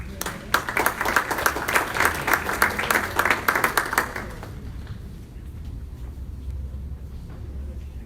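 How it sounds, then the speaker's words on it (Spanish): Audience applause rings through an auditorium at a thanksgiving church service, dense rapid clapping for about four seconds that then fades into a low room murmur. "Un aplauso, por favor."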